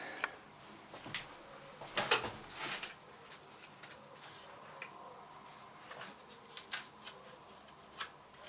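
Scissors trim a bent keyboard membrane from an old home computer, making a run of quiet, crisp snips and rustles, some grouped in quick bursts, with faint handling noise between cuts.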